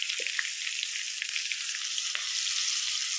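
Tempering sizzles steadily in hot oil for a cucumber chutney, a dense bright crackle that holds for the whole stretch, with a few soft low knocks of a utensil near the end.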